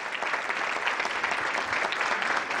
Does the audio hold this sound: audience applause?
yes